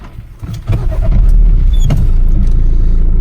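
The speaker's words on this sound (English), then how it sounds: "Let me start the car." A Renault Megane MK3 with an injection and anti-pollution system fault is started: a short cranking stutter, then the engine catches and settles into a loud, steady idle close by.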